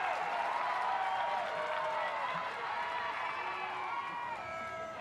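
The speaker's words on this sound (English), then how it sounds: "the crowd is really amped up as well" A crowd cheering and clapping at a college softball game, broad sustained roar with whistles and shouts that gradually eases off over several seconds.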